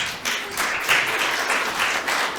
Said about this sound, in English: give a warm applause to Jon Len